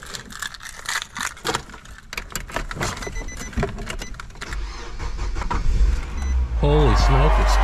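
A car engine cranks and catches, started with a Cat power station jump starter, then settles into a loud, steady running rumble. People talk over the cranking.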